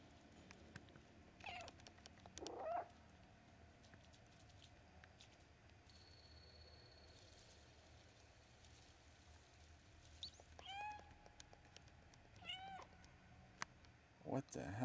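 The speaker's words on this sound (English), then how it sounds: "what we're gonna do is meow" Cat in the game Stray giving several short meows at intervals over a quiet background, with light pattering and occasional talk.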